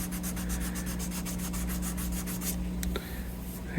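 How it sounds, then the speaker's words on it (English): A sanding block rubs back and forth across the finish of a vintage SSD Spector bass guitar in steady rhythmic strokes over a constant low hum, followed by a few faint clicks. "a sanding block is definitely where you go through finish"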